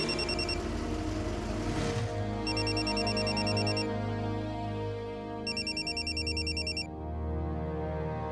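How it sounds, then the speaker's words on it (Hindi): An electronic telephone ringtone chirps in two repeating bursts over a steady musical drone. "गौरी जी का फोन।"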